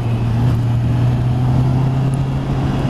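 A four-cylinder Honda CB650R motorcycle engine idles and revs steadily, a smooth low hum carrying through the whole stretch with no voices.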